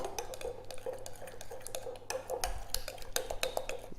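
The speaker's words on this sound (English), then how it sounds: "Let's stir all this up." Crème fraîche with a touch of vanilla stirred in a bowl, a light steady run of small clinks and scrapes of utensil on the bowl, close and fairly quiet, with no voices.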